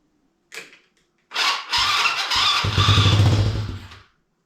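A small gas engine fitted to a Power Wheels ride-on toy sputters briefly, then starts and runs with a rough, buzzing idle for a few seconds, close and loud, before cutting off.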